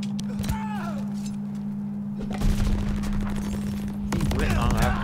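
In Call of Duty Vanguard, rapid automatic gunfire rattles in bursts alongside a steady in-game hum, while players talk excitedly over the shooting.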